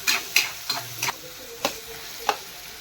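Stir-frying in a pan with turmeric and salt added, a faint background sizzle broken by about six sharp spatula scrapes and taps spaced unevenly, close up and without speech.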